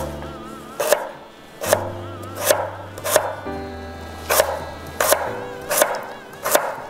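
A knife chops cooking ingredients, including burdock root, into small bean-sized pieces on a board, giving eight or nine sharp, evenly spaced strikes. A low hum sits beneath the chopping, and no one speaks.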